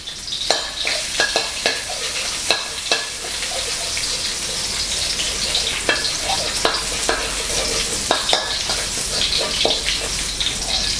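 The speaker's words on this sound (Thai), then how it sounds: "นำกระเทียมลงเจียวให้หอมนะครับ" Garlic frying in a little oil in a pan for dry-style stir-fried instant noodles, a steady close crackling sizzle broken by repeated sharp clicks and scrapes of stirring, with no voices.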